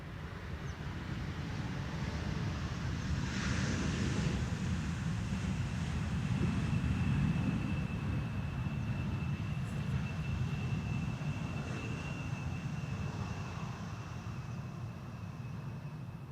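A KLM airliner arriving on runway 18R at Amsterdam gives a steady, broad jet roar that holds for the whole stretch at moderate distance, with faint higher whine above the low rumble.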